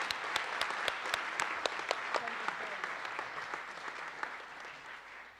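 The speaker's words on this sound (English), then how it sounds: "a big round of applause for him" An audience at a robotics conference awards and wrap-up session applauds, with sharp individual claps standing out above a steady crowd clapping that thins gradually.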